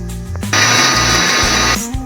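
A kitchen mixer grinder whirring loudly as it blends poppy seeds and cashews with a little water into a paste, one steady high-pitched burst of about a second and a quarter, preceded and followed by brief quieter motor sounds.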